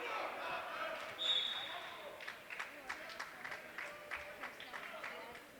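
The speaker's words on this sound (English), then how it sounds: "Durfee crowd's really starting to get involved in this game" A crowd at a Durfee vs. Dartmouth boys high school basketball game cheers and claps in a gym, a loud surge early that settles into scattered claps and shouts under a commentator's voice.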